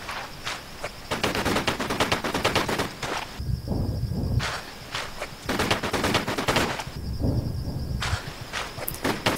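Rapid gunfire as Lara shoots at an enemy in a jungle ruins Tomb Raider level, steady bursts of shots in two long stretches, each broken by a short pause filled with softer ambient and movement sounds.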